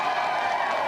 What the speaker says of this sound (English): let's give another round of applause for our challenger